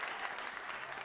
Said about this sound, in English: Can we all just give a round of applause for each of the women